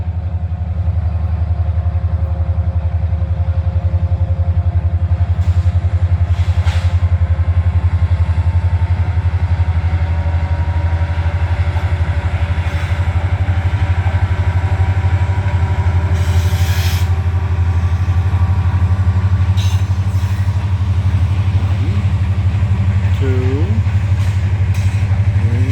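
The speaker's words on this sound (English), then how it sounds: "Here comes the train." Freight train passing close by, heard as a loud, continuous low rumble with rattling and squealing wheel noise and a few brief higher tones over about twenty-five seconds.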